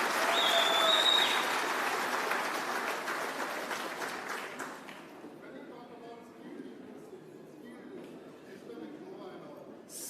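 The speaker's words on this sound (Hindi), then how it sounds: "जब मैं बोल रहा था सब ताली बजा रहे थे" Crowd clapping at an outdoor political rally for a youth job guarantee in Goa, a dense wash of applause loud at first and thinning after a few seconds into scattered claps and murmuring chatter.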